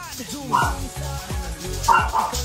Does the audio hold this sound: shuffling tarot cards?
no